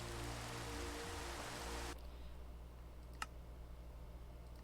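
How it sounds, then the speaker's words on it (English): Rain at night in the Minecraft video game gives a dense, even hiss that cuts off abruptly partway through, leaving a faint background with a couple of small clicks. "So this is raining at night."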